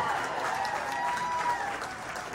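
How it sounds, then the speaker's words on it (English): A crowd applauding dancers at a fursuit dance competition, dense continuous clapping filling the room at steady loudness throughout, with some voices mixed in. "another round of applause to all the dancers who went out here"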